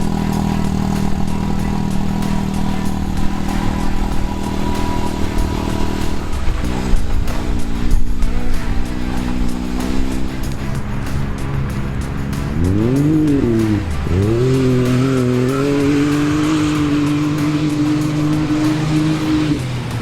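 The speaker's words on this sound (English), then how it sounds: "he's barely on the throttle." A newly acquired project vehicle's engine rumbles at a loud idle, then blips and revs in rising and falling sweeps before holding a steady higher drone, close and continuous with no talk.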